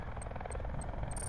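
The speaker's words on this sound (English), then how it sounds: "There's another helicopter northeast again." Helicopter in a battle-royale video game, a steady low rotor drone with a faint repeating high whine, moderately loud and continuous.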